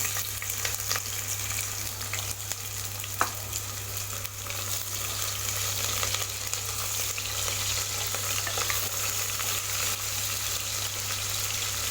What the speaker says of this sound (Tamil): பிரியாணிக்கு வெங்காயம் நல்லா வதங்கணும்.